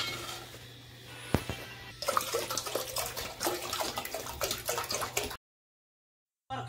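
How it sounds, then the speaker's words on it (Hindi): Hot water is poured into a jug for drinking, producing a close, continuous splashing pour that lasts a few seconds and then stops abruptly, with no voices. "पानी गर्म करते हैं पीने के लिए और गर्म करके एक जग में रख लेते हैं"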